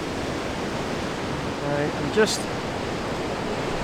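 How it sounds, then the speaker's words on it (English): Ocean waves roll in along the Causeway Coast, meeting an outgoing river flow, as a steady broadband wash of surf with a brief splash mid-clip, continuous and moderately near, with no talking. "these waves are coming in and also being met by the outgoing river bush"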